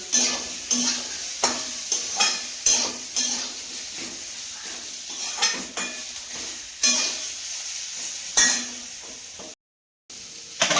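Fish sizzles in hot oil with turmeric in a pan, a steady fry broken by repeated scraping and clinking strokes of a utensil against the metal, close and moderately loud, with a brief silent gap near the end.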